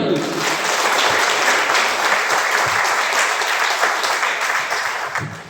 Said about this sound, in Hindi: सो वंस अगेन आप सबके लिए एक जोरदार ताली।